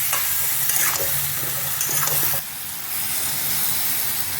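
A spatula stirs dabga vegetables in a hot pan for Bengali shukto, with close scraping clicks over a constant sizzle and hiss, and a short dip midway.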